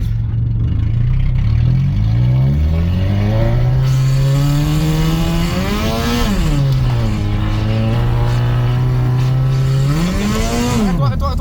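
A Peugeot 205 car accelerating hard toward 100 km/h, a loud engine whose pitch climbs steadily through the gears, each rise broken by a brief dip at a gear change, heard from inside the cabin.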